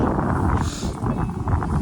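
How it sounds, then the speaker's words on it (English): Wind buffets the microphone outdoors in a December garden, a loud, close, rumbling roar that gusts and eases without pause. "Ooh, it's getting windy."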